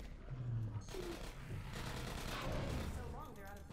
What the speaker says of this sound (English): I hear turrets.